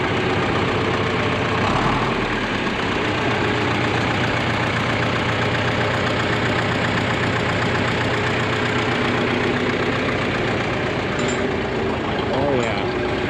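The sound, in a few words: John Deere 3020 diesel tractor engine running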